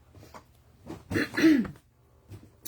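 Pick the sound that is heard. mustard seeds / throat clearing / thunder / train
throat clearing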